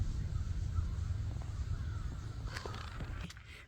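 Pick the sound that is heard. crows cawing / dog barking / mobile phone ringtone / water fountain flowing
crows cawing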